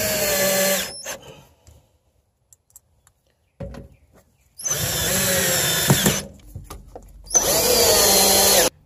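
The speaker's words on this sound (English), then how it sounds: "all I need to do is screw it into the floor." A power drill drives screws into an RV floor in three loud whirring bursts, each lasting one to two seconds and separated by quiet pauses, with no talking.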